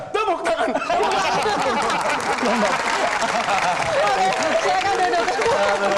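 A studio audience at an Indonesian talk show claps, a dense burst of applause mixed with laughter and chatter, and a host speaks over the noise.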